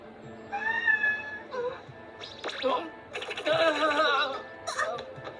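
Sphinx the cat meowing in an anime, several drawn-out wailing meows near and loud, mixed with a voice.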